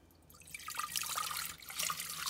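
Vinegar is poured slowly into a pot for a hot ice experiment, a close liquid splash and trickle that swells and eases in two pulses.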